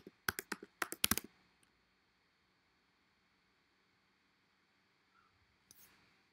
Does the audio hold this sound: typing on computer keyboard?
yes